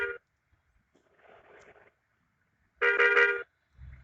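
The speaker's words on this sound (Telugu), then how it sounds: "అక్కడ హారన్ కొడితే." A bus horn in the Bus Simulator Indonesia game sounds in two short honks, a brief one at the start and a longer blast later, loud and close with near silence between.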